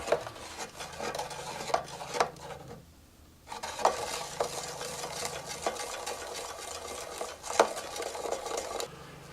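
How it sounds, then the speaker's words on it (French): Soap bubble liquid stirred steadily in a container, a continuous scraping and swishing with repeated clinks against the sides, moderately close and with no talking. "Et on mélange pendant au moins 10 minutes."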